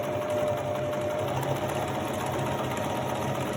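A sewing machine runs steadily as it stitches a long seam, a close, continuous rapid mechanical whir with no talking.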